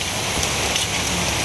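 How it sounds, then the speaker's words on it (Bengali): Heavy rain falling outdoors, a loud, dense, unbroken hiss of drops striking surfaces, close and steady throughout, with no talking. "বৃষ্টি শুরু হয়ে গেছে"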